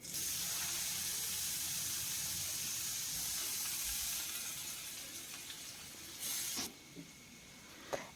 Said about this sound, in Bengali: এখন আলুটাকে হালকা করে ভেজে নেব, হালকা লাল লাল করে আলুটাকে ভেজে নিতে হবে